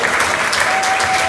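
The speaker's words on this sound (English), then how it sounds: "So give him a big round of applause." Steady applause from an audience at a small live music night in Crossley, continuous dense clapping filling the whole moment, fairly loud and close, with no talking over it.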